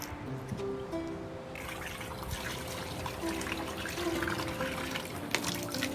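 Running water in a steady close trickle and splash, continuous throughout with a slight swell midway and a brief sharper knock near the end, alongside faint tonal hum from other background sounds.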